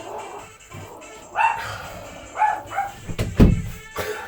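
A dog indoors gives several sharp barks and yips in an irregular series, loud and close, with brief whimpering between them.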